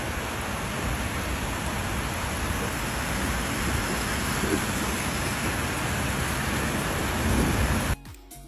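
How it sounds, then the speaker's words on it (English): Heavy tropical rain in Ghana pours down in a thunderstorm, a dense, steady roar of downpour close by that holds unbroken for about eight seconds before cutting off abruptly. "The rain here, the normal like everyday rain, is what we would call a thunderstorm or some sort of storm."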